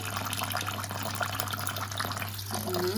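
Lentils are rinsed under running tap water for lentil soup with vermicelli, giving a steady close splashing flow with faint rustling of grains and a brief squeak near the end.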